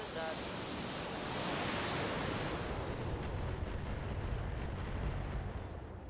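An artillery barrage in the BattleTech video game, heard as a sustained roaring rumble of overlapping blasts that holds loud and dense throughout before easing slightly at the end.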